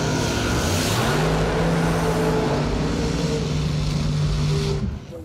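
Supercharged big block Chevy and 367 cubic inch Hellcat drag racing cars roar loud and close at a bracket race, a sustained heavy engine drone with rising tones that cuts off abruptly near the end.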